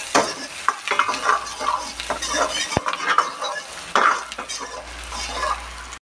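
Ginger, green chili and onion mince stir-fried in a pan for veg lollipops: steady close sizzling with repeated scraping and clinking of a spatula against the pan, no voices.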